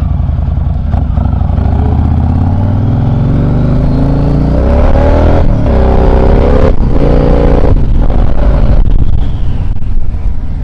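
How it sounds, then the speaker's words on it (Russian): A Yamaha XV1900 Star Raider cruiser motorcycle's big engine revs and accelerates hard on the road. It rises loud and close through gear changes, with heavy wind rush over the microphone. "Вот сейчас местами открываю ручку на всю."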